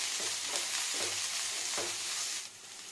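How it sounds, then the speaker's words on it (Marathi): Garlic cloves and small red chillies sauté in a hot pan, a steady close sizzle with a few soft stirring scrapes, no talking. "छानसं परतून घेऊया."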